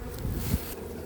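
Honeybees buzzing around a hive at a Florida apiary, a brief low droning hum close to the microphone, steady with a slight swell partway, no speech.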